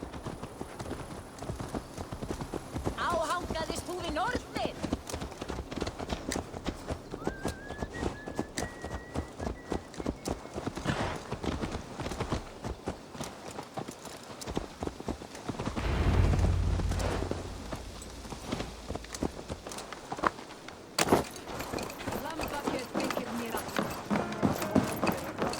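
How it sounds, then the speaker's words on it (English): Horse hooves clip-clopping at a walk in the Assassin's Creed Valhalla video game, a steady run of hoofbeats throughout, fairly near, with game dialogue spoken over it. "Let's return the horse."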